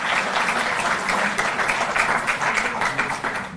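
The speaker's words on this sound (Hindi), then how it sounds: "जोरदार ताली इनके लिए और इनके हाथों ये नवांकुर।" Loud, sustained applause from an audience at a school sports event in Delhi, honouring young athletes, with dense steady clapping throughout and no talk.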